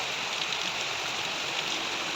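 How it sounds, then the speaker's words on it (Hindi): Heavy monsoon rain pours down outside a window in a steady, loud, unbroken hiss, close and constant with no voices over it. "और ये देखिए कितनी जोर की झमाझम बारिश हो रही है।"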